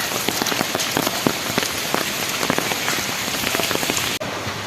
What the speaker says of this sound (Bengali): এই রান্নাঘরের বাইরেই দেখা যাচ্ছে বৃষ্টি